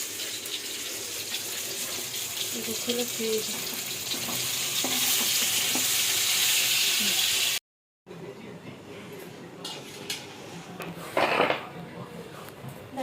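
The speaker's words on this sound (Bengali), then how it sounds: "এই মাছের মাথাটা ভাজা করে নেব দেখো" A fish head fries in a pan with a loud, steady sizzle for several seconds, then the sound cuts off briefly and resumes as quieter kitchen clatter with a watery splashing burst.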